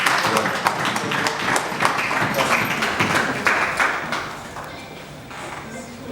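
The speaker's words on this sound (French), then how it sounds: "Si oui, un petit applaudissement." Audience applause at a workshop meeting, a dense patter of clapping hands from many people that holds steady for several seconds, then thins and fades toward the end, fairly close and loud.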